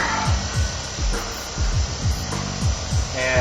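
A grinder works a rivet head off a small brass clip from a jumper cable, giving a steady close whine broken by short rhythmic scraping pulses as the disc bites the metal, with no talking.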